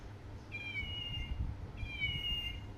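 A soft plush sleeping-cat toy plays two short, thin electronic meows, evenly spaced and fairly faint over a low background rumble, with no voices.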